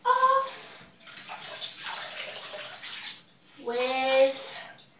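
Running water splashes in a steady rush as a face is washed off during a skincare routine, with a voice heard briefly before and after the flow.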